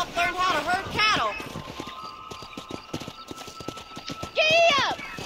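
Horse hooves clip-clop in rhythmic steps in the Western video game Red Dead Redemption, clear and close, with a horse whinnying and spoken game dialogue over the hoofbeats.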